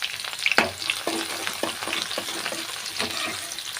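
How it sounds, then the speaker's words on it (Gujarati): Chopped onions fry in hot oil for a cluster-bean curry, loud close sizzling mixed with repeated scraping and stirring knocks from a spoon against the pan, no voices present. "તો ડુંગળી નાખી દીધી છે"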